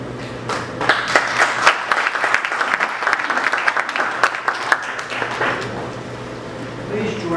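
Applause from a room of attendees at a Boy Scouts council event, crisp individual claps rising and then tapering off over several seconds, with a voice speaking faintly as it ends.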